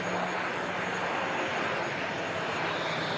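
A steady, broad aircraft roar from the CX300 electric aircraft flying at the Farnborough International Airshow, constant and moderately distant throughout, with no talk over it.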